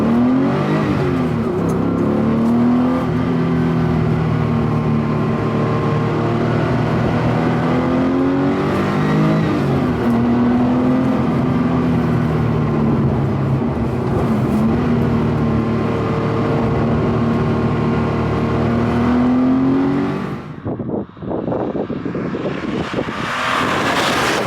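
Porsche 993 accelerating on its first drive, a loud close engine note rising and falling through gear changes, sustained and continuous, with a brief dip near the end.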